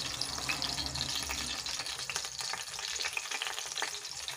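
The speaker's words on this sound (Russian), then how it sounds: "масло уже брызгает" Hot oil spatters and crackles in a pan as stuffed pies fry, a dense, continuous sizzle with sharp pops throughout, close and steady, no voices.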